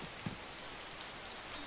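Steady rain falls in the survival game DayZ, a dense, even hiss of drops with one faint low thud near the start and no voices.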